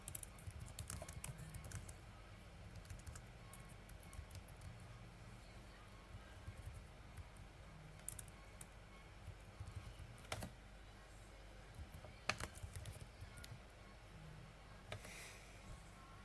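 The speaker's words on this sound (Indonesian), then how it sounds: "Kita ketik IP configure terminal IP." Router configuration commands are typed on a computer keyboard, faint irregular clicks in bursts with short pauses, under a quiet room background.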